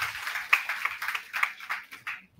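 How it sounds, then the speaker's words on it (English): An audience at an applied mathematics symposium claps to welcome a guest speaker, a round of many hands with distinct sharp claps at first, fading out toward the end. "Please give him a round clap."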